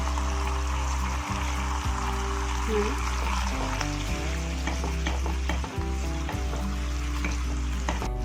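Masala for a prawn kofta curry sautéing in a pan after being mixed with a little water, a steady close sizzle with stirring scrapes throughout and a low background hum.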